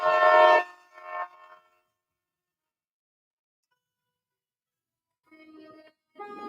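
Horn of the Palace on Wheels luxury train in Rajasthan, two loud tonal blasts, the first longer, then silence before two fainter horn notes at the end.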